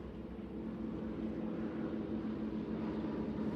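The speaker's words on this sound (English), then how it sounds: "Boy, those planes are loud." A low, continuous engine rumble drones steadily overhead, a heavy aircraft roar that holds throughout without pause.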